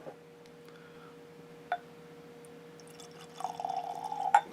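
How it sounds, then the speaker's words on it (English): Widmer Winter Rye bourbon poured into a glass, a faint thin liquid stream rising near the end after a couple of soft drips and clinks in a quiet room. "we're going to pour a little more"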